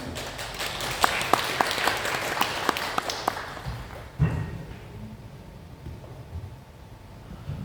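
A seminar audience at the Korean launch of the DJI Mavic 3 Enterprise applauds a speaker coming up, with about four seconds of scattered, moderate clapping that stops into quiet room noise.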